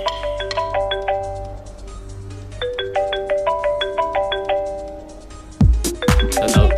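A phone rings in a Vietnamese crime drama, its repeating electronic ringtone melody playing in bursts of short chiming notes over a low background hum, then giving way to a few louder clunks and rustles near the end.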